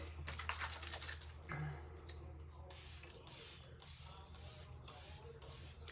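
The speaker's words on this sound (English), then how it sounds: "let it set, setting spray." Setting spray misted onto the face in a makeup routine, a series of short, soft aerosol bursts in quick succession following some rustling, close and fairly quiet.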